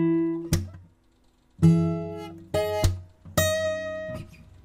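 Acoustic guitar playing a slow fingerstyle arrangement: four separate plucked chords with a slap, each left to ring out and fade before the next, close and clear with no voices.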